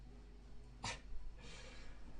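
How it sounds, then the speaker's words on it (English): An indoor dog gives a single short, sharp snort or sneeze-like burst, then a softer breathy snuffle, both quiet and close against a low background hum. "Sorry, my dog."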